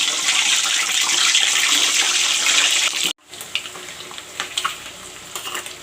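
Eggs drop into hot oil in a home kitchen pan, giving a steady loud hiss that cuts out abruptly, then returns as a softer, crackling sizzle with small spits and pops.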